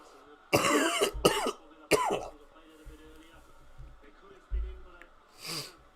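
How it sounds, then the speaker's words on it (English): Several harsh coughs and throat-clearing bursts in quick succession near the start, followed by quieter breathy rasps and one more cough toward the end. "I wish this cough would really go away"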